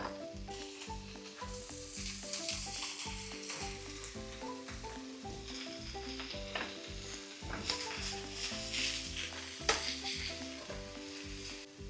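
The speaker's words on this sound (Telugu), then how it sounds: "పన్నీర్ని జస్ట్ ఇలా టాస్ చేసి లైట్గా." Paneer for fried rice fries in a pan with only a little leftover oil, giving a steady, close sizzle broken by a rhythmic run of tossing and stirring scrapes.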